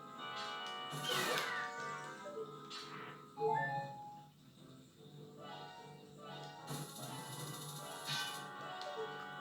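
A cat meows inside the video game The Legend of Zelda: Ocarina of Time, with short mewing calls mixed into the game's music and ambience at moderate loudness.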